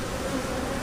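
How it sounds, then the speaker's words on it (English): Honey bees from a queenright hive colony buzz in a dense, steady drone, close and continuous with no voices over them. "sorry about the bees, I don't know why they're so rowdy"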